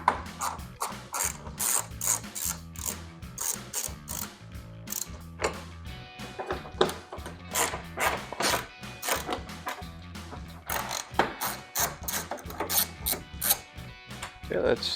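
Rapid ratchet clicking in repeated bursts as a ratchet wrench with an extension backs out headlight bolts on a 2019-2021 Chevrolet Silverado 1500, close and loud with brief pauses between runs.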